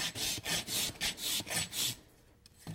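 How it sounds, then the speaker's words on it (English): A balata rasp files the rear hoof of a draft horse in a quick run of about seven rhythmic, close rasping strokes, then stops and leaves a quieter pause. "using this balata rasp, I'm going to get that as flat as I can"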